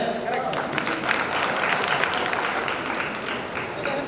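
An audience at a miracle-debunking demonstration lecture breaks into sustained applause. The thick, continuous clapping fills the room for several seconds, with a voice faintly mixed in.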